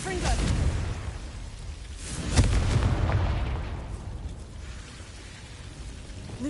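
Blasting Confringo spell explosions in Hogwarts Legacy, loud booming bursts rolling through the scene, one heavy blast near the middle with rumbling tails and a voice speaking faintly beneath.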